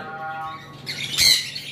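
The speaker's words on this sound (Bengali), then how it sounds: "নিচে একটা ঝর্ণা পাল কোকাটেল দেখতে পাচ্ছেন, দৌড়াদৌড়ি করতেছে।" A female cockatiel in a breeding cage gives one sharp, loud squawk partway through, with softer chirps before it over a low background hum.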